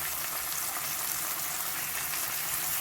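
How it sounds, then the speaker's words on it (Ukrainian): Mushrooms (pechera, button mushrooms) fry in a pan for a zucchini pie, giving a steady, even sizzle that carries on without a break throughout, with no talking. "І на пательні піджарити. Піджарюємо так і ці печерички з двох боків."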